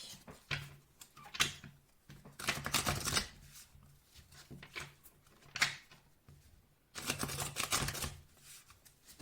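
Oracle cards being shuffled by hand, several bursts of papery riffling and flicking separated by short pauses, close and fairly quiet.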